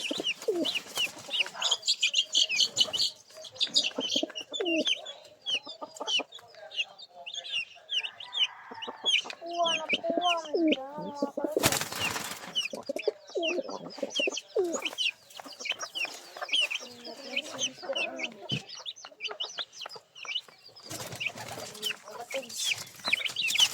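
Pigeons coo and flutter while scuffling with one another, a busy run of throaty calls and clucking bird sounds carrying on throughout, close by, with a couple of loud bursts of wing noise.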